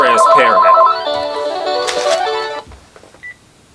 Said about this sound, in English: Sorry, y'all, my phone rang.